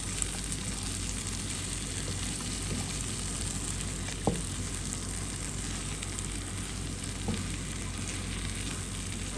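Onion, fenugreek, and powdered cinnamon and cardamom with turmeric fry in a pan for a Sri Lankan dal, giving a steady close sizzle with a few soft knocks from stirring.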